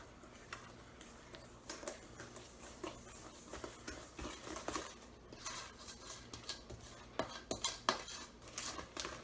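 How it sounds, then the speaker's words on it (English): Flour being worked into butterscotch chip cookie dough in a bowl, with a run of irregular scraping and tapping clinks from a utensil against the bowl, fairly close and steady, with no talk. "And then just mix it up again. Incorporating the flour into the mix."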